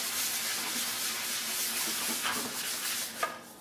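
Sandpaper on a block rubbing the glossy finish off a budget guitar body, a steady close abrasive hiss with continuous back-and-forth scraping and a small knock near the end.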